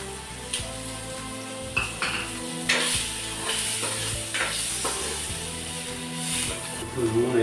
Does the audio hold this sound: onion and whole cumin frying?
yes